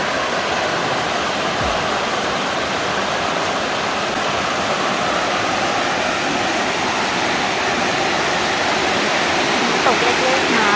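Jae Sorn waterfall near the hot springs in Lampang, Thailand, pours in a dense, continuous roar of rushing water that stays close and loud from start to finish.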